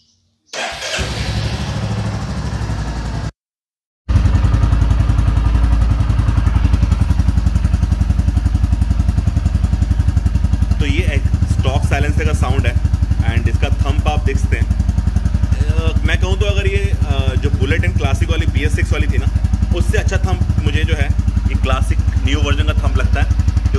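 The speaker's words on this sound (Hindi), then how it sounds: "तो पहले सुनते हैं स्टॉक एग्जॉस्ट" A Royal Enfield Classic Reborn motorcycle with stock exhaust idles with a steady low exhaust thump, starting after a short gap, with a voice talking over it partway through.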